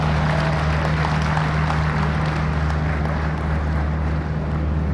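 Sustained clapping from a crowd at a political rally, a continuous wash of applause at even loudness over a steady low electrical hum.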